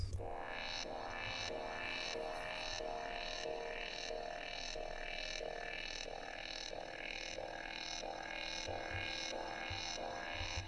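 A dense, sustained wavetable synth pad for techno drones in the background with a gently pulsing, rhythmic shimmer, fairly quiet and continuous throughout.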